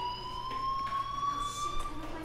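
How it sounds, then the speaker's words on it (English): An electronic fire alarm sounds as a steady, high-pitched tone with faint beeping overtones, heard somewhat distant and muffled indoors for a couple of seconds. "Hey, do you hear that fire alarm?"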